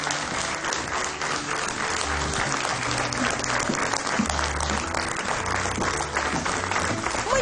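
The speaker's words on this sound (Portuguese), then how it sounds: "Um grande aplauso." Studio audience applause on a television talk show, a loud, dense and sustained clapping from a large crowd, even in level throughout with faint voices mixed underneath.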